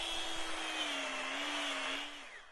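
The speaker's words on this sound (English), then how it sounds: "using a chainsaw to make art" A chainsaw runs at a steady, high-pitched whine while carving wood into art, holding an even drone for about two seconds before easing off slightly at the end.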